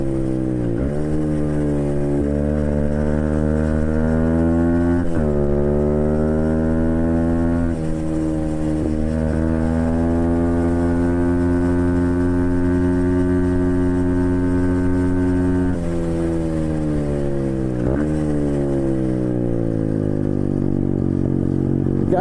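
A 125cc Chinese pit bike engine revs steadily on a trail ride, loud and close, its pitch climbing through each gear and dropping sharply at several shifts, with no talk over it.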